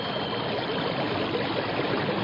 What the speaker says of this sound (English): It sounds like a giant waterfall.